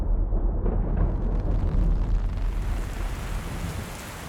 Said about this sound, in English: Rain and high winds hit the race, resulting in plummeting temperatures.